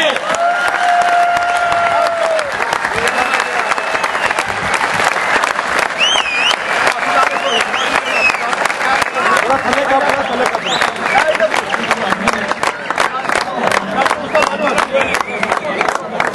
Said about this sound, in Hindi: तालियों की आवाज आती रहनी चाहिए